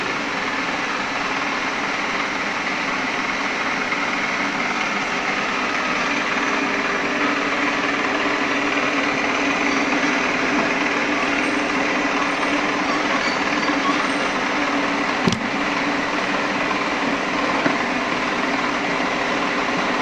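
A milling machine cuts the teeth of a spur gear, giving a steady, loud, broadband machining drone that runs unbroken throughout, with one sharp click near the end.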